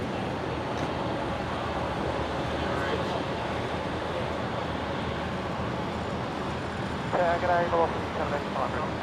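A QantasLink Dash 8 turboprop departs Brisbane's runway 01 right, a sustained rumbling engine roar at moderate distance with faint chatter over it.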